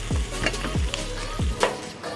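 Chopped medium-sized onions are stirred in a hot pan of oil, with a continuous sizzle and three rhythmic scraping sweeps of the spoon about two-thirds of a second apart.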